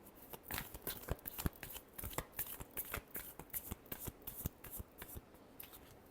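Tarot cards are riffled and shuffled by hand in a quiet room, a steady run of close, crisp flicks and slaps with no talking.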